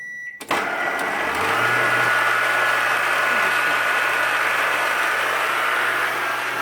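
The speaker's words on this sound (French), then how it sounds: "On va battre le jus de pois chiche avec la cuillère à soupe de jus de citron pour démarrer." Chickpea water and lemon juice being beaten by an electric mixer, its motor starting with a click and running as a loud, steady whine with a low hum throughout.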